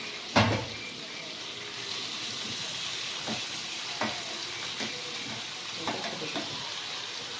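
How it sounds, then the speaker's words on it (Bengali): Morla fish frying in a pan, with a steady hiss and sizzle broken by a few sharp clatters and knocks from a utensil. "মোরলা মাছটা ভেজে নিই"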